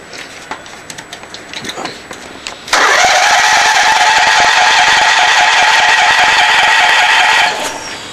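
A re-powered Craftsman engine cranks with a few scattered sputters, then catches and runs at a loud, steady, buzzing idle for several seconds before easing down near the end, with birds faintly audible in the background.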